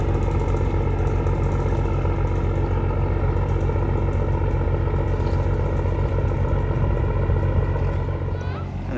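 Fishing boat setting out from a beach in eastern Thailand, its engine a loud, steady, rattling drone close by that eases off slightly at the very end.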